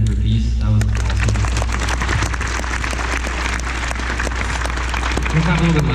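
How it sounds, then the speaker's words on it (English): An audience applauds performers in a hall as scattered, steady clapping runs all the way through, mixed with talk and crowd murmur. "can you guys, first of all, clap for Drake and for Peace?"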